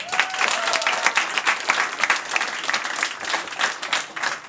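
Applause from an audience at a youth U13 football cup event, welcoming former footballer Klaus Fischer; dense, steady clapping fills the space throughout with no voices over it.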